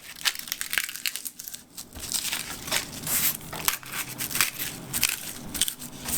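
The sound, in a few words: cutting a nori sheet in half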